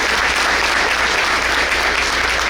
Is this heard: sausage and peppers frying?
no